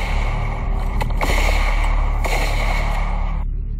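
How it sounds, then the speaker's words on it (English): A few sharp, loud gunshot cracks ring out over continuous roaring background noise, spaced apart. "Towards the end of the clip, gunshots can be heard."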